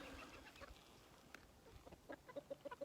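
Domestic chickens forage in a garden, giving a run of soft, rhythmic clucks that cluster toward the end, faint and nearby amid light rustling.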